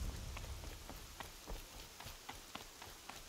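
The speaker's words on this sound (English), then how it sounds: "Can't see shit with all this rain" Steady rain pours down in a video game, a broad continuous hiss with scattered drop ticks and a few soft thumps, moderately loud and heard alone without talk.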